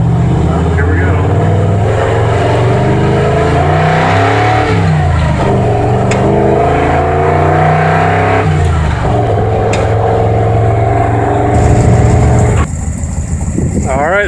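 An engine fitted with a rebuilt Autolite 4100 carburetor runs loudly and revs up and down under load, its tone rising and falling, with a voice briefly audible over it.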